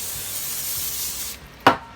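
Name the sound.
cooking spray can spraying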